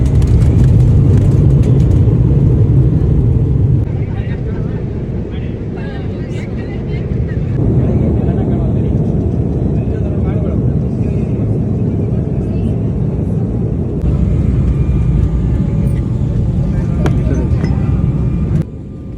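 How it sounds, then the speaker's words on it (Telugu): Steady low engine roar fills an airliner cabin during departure, with a rise in intensity partway through; a voice speaks over the drone. "ఇప్పుడు ఫ్లైట్ బయలుదేరుతుంది"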